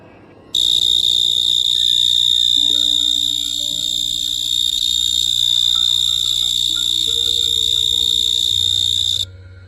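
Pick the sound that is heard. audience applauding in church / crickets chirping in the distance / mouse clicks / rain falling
crickets chirping in the distance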